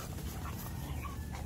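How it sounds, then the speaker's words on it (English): Several dogs pant and whimper nearby in a garden, a dense, continuous mix of breathy panting and small whines that is fairly loud across the short stretch. "We have so many dogs and they don't all get along"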